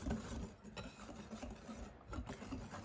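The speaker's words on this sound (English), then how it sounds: "I'm gonna go ahead and give these a whisk until they're well combined." A whisk stirs dry cornbread ingredients in a bowl, producing a soft, continuous scratchy rubbing that rises and falls with the strokes, close and quiet.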